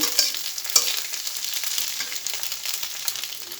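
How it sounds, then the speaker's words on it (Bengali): Egg frying in a pan while being stirred during pasta preparation, a steady sizzle with occasional sharp clicks of a utensil against the pan, close and fairly loud throughout. "ডিমটা আর একটু ভাজি করে নেই"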